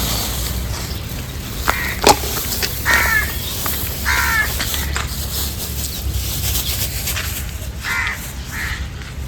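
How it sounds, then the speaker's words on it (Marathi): Several crows caw in short, harsh calls from different spots while feeding on scattered wheat grain and papad outdoors, over a steady background hiss and some light pattering. No one talks. "या ठिकाणी टाकलेले आता पक्षी खातील आहेत."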